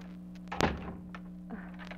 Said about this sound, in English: I think I heard someone at the door.